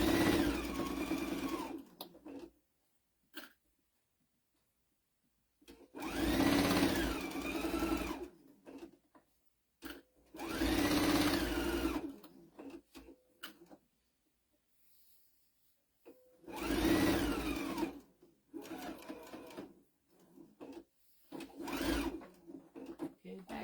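A sewing machine stitching a tea towel runs in several loud bursts of rapid mechanical whirring, separated by quiet pauses, with a voice talking between some of the runs.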